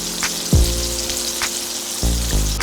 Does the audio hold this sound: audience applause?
no